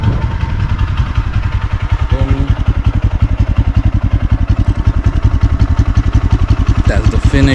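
A Kp Master 200cc beginner motorcycle with upgrades runs close by, its engine firing in a fast, even pulsing chug that holds steady under a voice.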